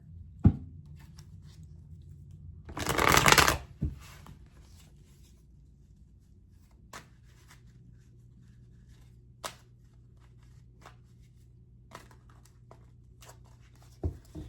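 Tarot cards are shuffled in a single brisk, close burst lasting about a second, followed by scattered faint taps and card handling in an otherwise quiet room.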